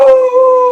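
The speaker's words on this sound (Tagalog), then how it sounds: "Natahol tuloy tayo ng aso." A dog in a quiet residential area of Sampaloc, Manila gives one loud, drawn-out howling cry close by, with no other sounds.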